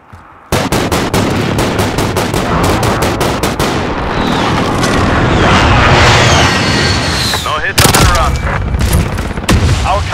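Airstrike explosions and gunfire in a Striker 45 10v10 team deathmatch on the Mialstor Tank Factory map: a dense, loud barrage of rapid shots and booms that runs almost unbroken, with a heavier blast near the end.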